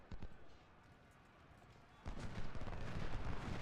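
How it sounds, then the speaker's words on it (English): Artillery fire in the Ultimate General: Civil War battle at Gaines Mill, a distant boom followed by a dense, loud volley of rumbling cannon fire and crackling gunfire. "Seems like there's artillery firing down on us from up here."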